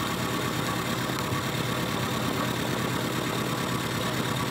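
Milling machine spinning a titanium carbon nitride coated carbide cutter at about 450 RPM on a rotary table, cutting with clear pipe threading oil; a steady, unbroken mechanical drone with low hum runs throughout at constant level.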